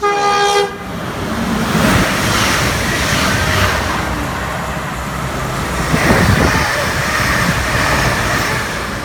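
A Northern train arrives at Longport station, opening with a short horn blast before a loud, sustained rumble of wheels and carriages passing close by, swelling again toward the end.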